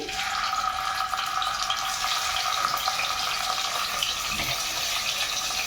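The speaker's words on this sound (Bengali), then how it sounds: "তেলটা গরম হয়েছে, আমার নুন হলুদ দিয়ে মেখে রাখা মাছগুলো চুলায় দিয়ে দিচ্ছি" Turmeric-and-salt-coated shrimp fry in hot soybean oil, giving a steady loud hiss and crackle that runs continuously without pause.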